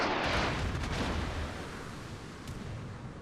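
Naval gunfire from a Tier 8 warship in World of Warships booms as a broad, rumbling artillery blast that fades into a sustained low roar, fairly muffled and with no voices.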